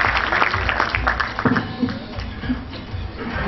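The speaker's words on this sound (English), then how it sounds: "let's give a big hand of applause for first all those who have been nominated" Audience applause for nominees and winners at a foundation day awards ceremony, a continuous wash of clapping with a few louder individual claps and faint crowd murmur.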